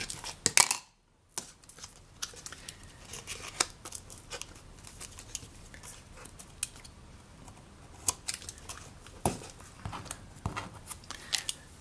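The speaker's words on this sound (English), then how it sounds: "cut this miter" A dull blade slices a miter through box covering material, a series of short, crisp cutting and crinkling snips close up, scattered irregularly over quiet room tone after a brief silent gap.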